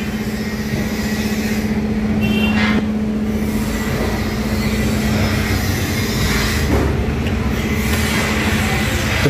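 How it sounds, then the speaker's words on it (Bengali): A steady low rail hum and rumble fills the underground Howrah Maidan metro station beneath the Ganges in Kolkata, continuous and fairly loud for the whole stretch, with no voices. "আমি এখন কমপ্লিটলি হাওড়া মেট্রো স্টেশনের ভেতরে দাঁড়িয়ে আছি"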